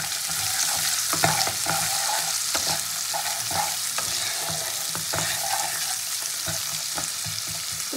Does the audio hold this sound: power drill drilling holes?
no